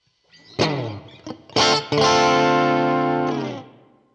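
Harsh, distorted electric guitar through a Line 6 POD Go modeler with parametric EQ off: a few short struck notes, then a full chord that rings out and sustains before fading.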